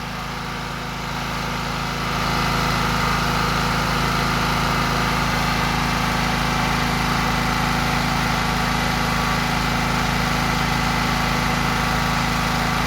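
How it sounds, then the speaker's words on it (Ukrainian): Genergy Estrela 3300 generator runs with a steady drone, swelling louder after about two seconds as a 0.8 kW water pump switches on, then holding a constant loaded hum. "Зараз ми біля генератора і подивимося, як він реагує на включення насоса."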